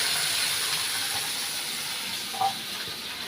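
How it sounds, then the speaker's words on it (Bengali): Water meets fried onions in a hot pan while a whole hilsa fish curry cooks, producing a steady close hiss and sizzle with one brief bump of sound. "এখন এর মধ্যে আমি পানি দিয়ে বাকি মশলাগুলো দিয়ে দেবো"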